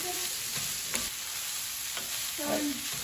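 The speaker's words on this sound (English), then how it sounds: "We're gonna let that simmer for a little bit longer." Onions and red bell pepper cooking in a pan for southwestern egg rolls, a quiet, continuous sizzle with a few faint scrapes of a utensil stirring.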